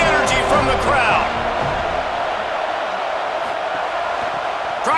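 Football stadium crowd in EA Sports College Football: a constant broad roar of a large crowd, with a voice briefly over it at the start before the crowd noise continues alone.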